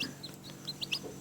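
Chickens kept at a home clucking in short, soft bursts, several quick calls close together over a faint background, with no talk.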